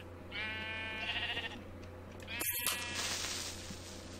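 Sheep in Minecraft SkyGrind give a couple of clear, wavering bleats close by, the second cutting in sharply after the first, with a steady low hum from the game underneath.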